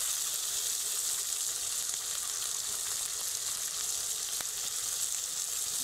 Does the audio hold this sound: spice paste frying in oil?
yes